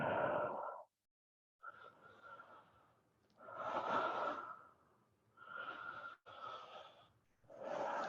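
Slow yoga breathing, close and soft: long airy inhales and exhales alternate with brief pauses, about four full breath cycles in an otherwise quiet space.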